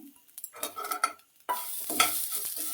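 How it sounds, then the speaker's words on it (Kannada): Grated coconut stirred in a hot pan with the stove switched off, giving close scraping and rustling strokes with a brief pause, then a continuous gentle sizzle. "ಬಾಂಡಿ ಬಿಸಿಯಲ್ಲೇ ಒಂದು ಎರಡು ಸುತ್ತು ಹುರ್ಕೊಳ್ತೀನಿ"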